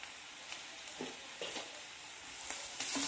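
Sliced onions with half a teaspoon of salt frying in a pan for potato poriyal, a quiet steady sizzle broken by a few soft stirring scrapes and clinks, with no voices.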